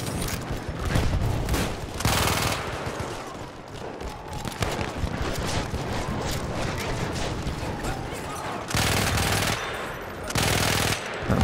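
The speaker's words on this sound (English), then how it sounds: "He might win that gunfight." Machine-gun gunfight in the video game Battlefield 1: sustained rapid automatic fire in repeated loud bursts, with short pauses between volleys and dense battle noise throughout.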